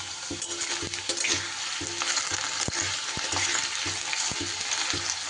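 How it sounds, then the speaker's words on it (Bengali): Potatoes frying in hot mustard oil in a wok, a steady, close sizzle with rhythmic stirring clacks throughout, no talking. "তেল গরম হয়ে গেলে আমি তেলের মধ্যে আলুগুলো আগে একটু ভেজে নেব।"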